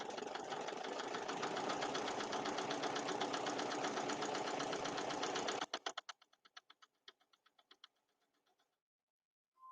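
A sewing machine stitches a quilted potholder with a steady, fast, loud mechanical whir for about six seconds. It then stops and gives way to a short run of slow, separate clicks before falling silent.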